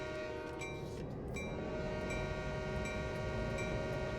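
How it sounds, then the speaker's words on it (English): Diesel locomotive horn sounded in the Train Sim World railway simulator, a sustained multi-tone chord holding steadily throughout over a low engine rumble, fairly quiet with no talk. "Blow that horn."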